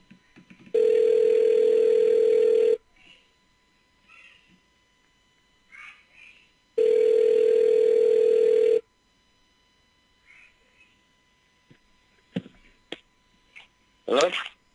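Telephone ringing on a recorded outgoing call, two long steady rings about two seconds each separated by silence, followed by faint clicks and line noise before a voice briefly answers.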